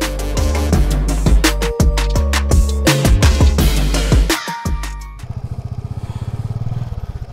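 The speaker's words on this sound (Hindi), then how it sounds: "बाइक किधर भी भाग सकती है ऐसे स्लश में" A motorcycle rides through slush on a mountain road in the Himalaya, the loud engine broken by clattering thumps and splashes before it settles into a rapid, rhythmic putter near the end.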